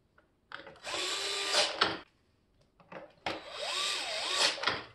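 A small power screwdriver drives screws back into the cover of a Xiaomi robot vacuum. Two short, close bursts of whirring each rise and fall in pitch, with quiet between them.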